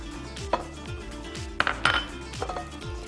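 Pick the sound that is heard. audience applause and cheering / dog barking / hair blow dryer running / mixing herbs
mixing herbs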